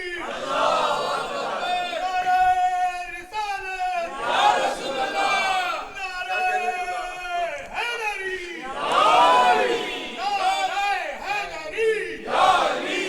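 Crowd at a religious gathering chanting slogans in loud, rhythmic call-and-response bursts, voices rising and falling together with cheering and whoops in between.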